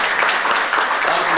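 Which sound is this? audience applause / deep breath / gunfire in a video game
audience applause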